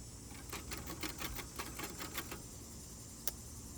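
Typing outdoors on a 1960 Olympia SG-1 manual typewriter: a quick run of crisp key strikes in steady rhythm, then a pause and one sharper clack, all fairly faint against a hissy outdoor background.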